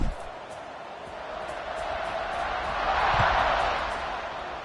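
A football stadium crowd roars in a steady, swelling wash of cheering that builds toward the middle and stays broad and distant throughout.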